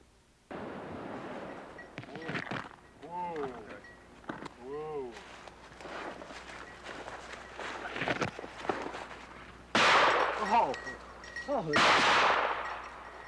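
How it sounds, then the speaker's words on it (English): Shotgun blasts while hunting woodcock in the brushy woods of Michigan's Upper Peninsula, with several sharp, loud reports clustered near the end and footsteps rustling through cover before them; a voice talks over parts of it. "The shooting is fast. That's woodcock hunting in Michigan's Upper Peninsula."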